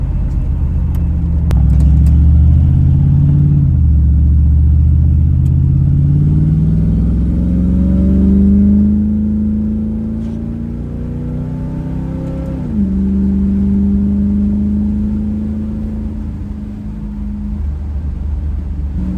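Chevy S10 truck engine held near 2,500 RPM with a little throttle, a loud, close, steady drone whose pitch slowly rises and then settles, with no talk over it.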